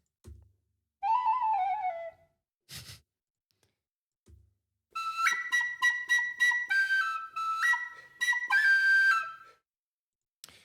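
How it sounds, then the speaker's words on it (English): Several short tin whistle phrases, bright and clear, with pauses between them, then a longer run of quick ornamented notes. "So that's the tin whistle."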